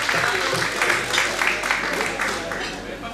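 A live audience applauds a singing contestant at a song competition, dense steady clapping close up with a voice speaking over it.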